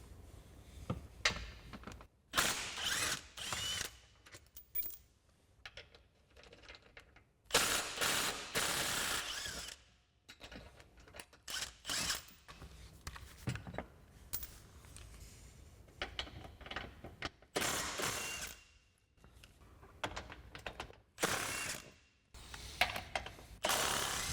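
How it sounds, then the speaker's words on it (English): A ratchet with a 15 mm swivel socket backs out front bumper bolts on a 2021-2024 Ford Bronco: bursts of rapid clicking pawl ratchet strokes, close and fairly loud, separated by short pauses, with no talking. "So I've got a 15 millimeter swivel socket to remove all of these bolts."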